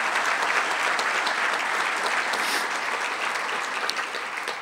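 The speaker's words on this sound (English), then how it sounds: "let's give these sponsors for our last 3 months a special round of applause" A City Club audience gives a sustained round of applause for sponsors, a dense, even wash of many hands that fades slightly toward the end.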